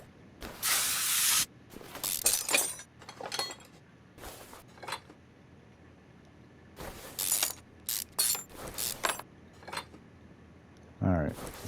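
Spray bursts on a bolt in the CMS-21 car mechanic game: several short and long hissing blasts, with clinks of metal parts between them.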